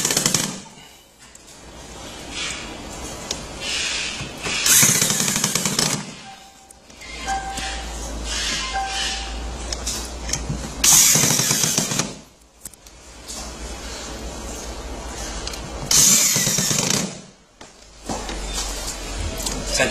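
A power tool drives screws into a Costway kids' ride-on truck (TY324114RE) during assembly. Loud, whirring bursts of a few seconds each repeat roughly every five to six seconds, with quieter handling noise in between.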